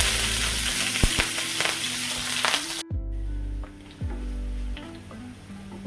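Green chillies sizzle in hot coconut oil with mustard seeds for a pineapple pickle, a continuous close, loud frying hiss with occasional stirring scrapes and a brief drop as the pan shifts.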